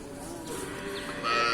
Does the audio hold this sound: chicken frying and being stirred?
no